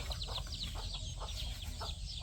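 Hens with newly hatched chicks cluck softly at a rural farm, a run of short, close calls over a low background hum.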